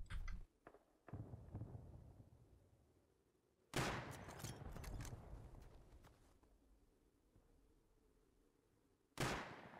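Gunfire in the video game Rust comes as sharp, loud bursts, with single shots and then a longer volley, each followed by a ringing decay.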